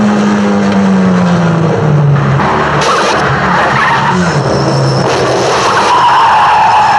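Car tyres skid and squeal through a staged film car chase in city traffic, loud and continuous with engine roar beneath and rising screeches over the whole stretch.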